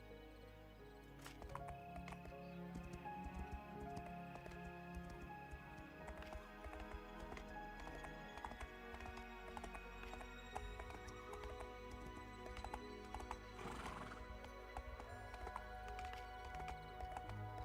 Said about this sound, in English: Oh, I gotta stable the horse.